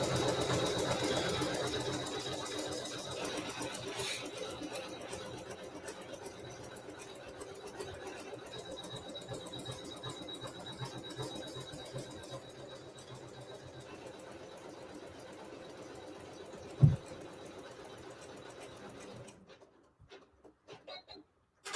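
Sewing machine stitching black felt along a placement stitch, a steady close mechanical whirr running continuously for most of the time, with one sharp knock near the end before it stops and the room falls nearly silent.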